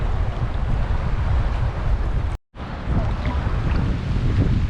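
Strong wind buffets the microphone at Diani Beach in Kenya, a constant loud roar with a brief dropout midway and surf faintly mixed in.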